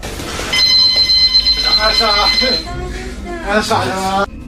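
A boxing ring bell sounds near the start of a fight, its tone lingering while someone talks excitedly over it and crowd noise.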